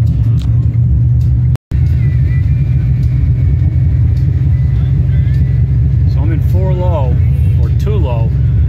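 A truck engine holds back under compression braking while descending a steep road with fading brakes, a loud, steady low rumble throughout, a brief dropout early on and someone talking over it.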